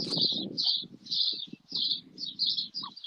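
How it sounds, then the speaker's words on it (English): Birds chirp in repeated bright, short bursts with brief pauses between them. A low rumbling background runs underneath the calls throughout. "I hear birds in the background and everything."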